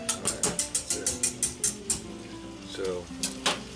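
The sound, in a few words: whisking batter with a whisk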